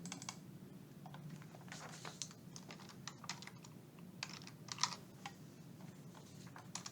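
Steady, close typing on a computer keyboard, with rapid irregular key clicks and occasional louder taps over a low background hum.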